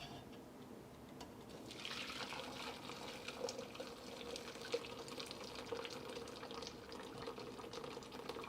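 A hot pineapple, turmeric and ginger drink pours steadily into a heat-safe container, a continuous close splashing, gurgling stream of liquid that holds at an even level throughout.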